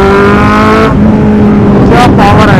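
A Kawasaki Z800 motorcycle engine rumbles loudly at close range, then revs sharply in two quick bursts.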